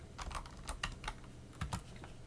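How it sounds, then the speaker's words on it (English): Fingers tap a computer keyboard in quick, irregular bursts of crisp clicks while entering terminal commands, close and fairly quiet, with short pauses between keystrokes. "and let's start typing"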